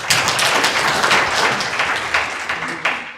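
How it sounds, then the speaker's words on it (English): Conference audience at a Tanzania Surgical Association meeting in Morogoro clapping for presenters, a dense, steady burst of many hands lasting a few seconds, fairly loud and fading slightly at the end. "I should ask you to give clap to the presenters."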